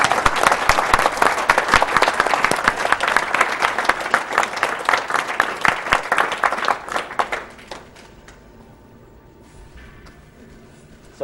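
Dense, sustained applause from a live audience at a speedrunning charity event, many hands clapping loudly for about seven seconds before tapering off into scattered claps and near silence.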